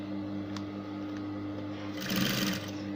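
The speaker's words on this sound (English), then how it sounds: "I'm sewing right on the center front line." A sewing machine stitches exaggerated ruffles along a blouse's center front line, humming steadily and swelling into a brief faster, louder run near the end.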